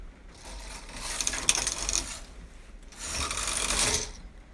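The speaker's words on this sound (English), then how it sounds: "Okay, so take the carriage across." A Toyota 747 knitting machine carriage slides across the needle bed in two close, rasping mechanical passes, each a few seconds of scraping clatter with a brief pause between, heard alone without talk.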